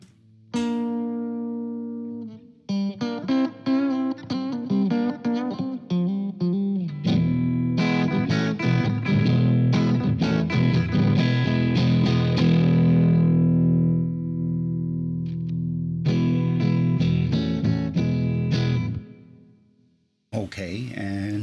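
An electric guitar plays through the Voxengo Boogex version 1 amp simulator with light, touch-sensitive crunch. Picked single notes open the passage, then fuller strummed chords follow in steady phrases and ring out, with a brief pause near the end.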